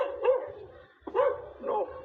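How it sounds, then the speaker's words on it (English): A dog barks from behind a wall in three sharp, agitated bursts about half a second apart, fairly close and loud, with no talking over it. "That dog wants to climb the wall"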